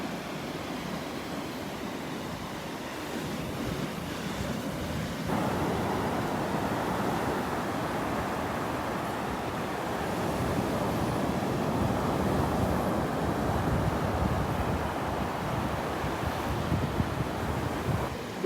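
Ocean surf washes continuously onto a Gulf beach at Delnor-Wiggins on a morning walk, a broad steady roar of breaking waves mixed with wind noise on the microphone, no talking.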